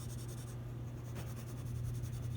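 Green colored pencil shading a car drawing on paper, a soft, close, continuous scratchy scribbling in quick back-and-forth strokes, quiet and alone.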